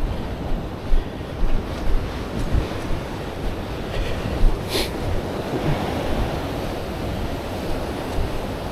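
Heavy surf roars continuously as strong ocean waves crash on rocks at Browns Rock, New South Wales, a loud broadband wash with periodic swells as waves break and churn nearby.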